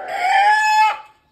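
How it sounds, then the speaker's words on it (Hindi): A desi rooster gives a single loud, close squawking cluck as it is caught by hand, a brief harsh cry that cuts off abruptly. "ये देखो भाई साहब ये मुर्गा पकड़ लिया"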